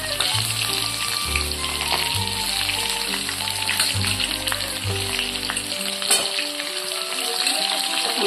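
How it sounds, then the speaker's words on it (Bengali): Tomatoes and potato slices frying in a pan, a steady loud sizzle and crackle running throughout with faint clinks of stirring. "আমি এবার টমেটো আর আলুগুলো হালকা করে ভেজে নেব।"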